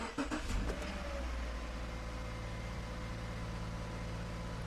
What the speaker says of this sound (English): I'm going to start the car just to see what changes here.